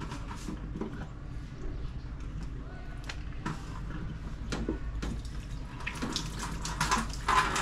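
Tap water runs steadily into a kitchen sink while scraps like squash peels are being cleared, a continuous close splashing hiss with scattered clinks and knocks of dishes throughout.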